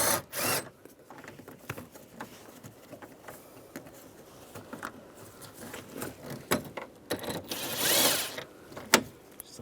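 Intermittent ratcheting and metallic rubbing as a 10mm socket works a bolt beneath the parking brake release in a 2007-2013 Chevrolet Silverado, with short clicks and scrapes between quiet gaps.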